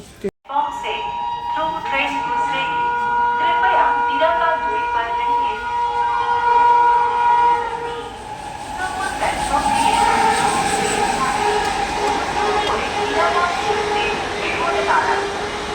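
The Lalgola Hazarduari Express passenger train rumbles steadily nearby while a long, bright horn-like tone holds for several seconds, with voices and station bustle underneath.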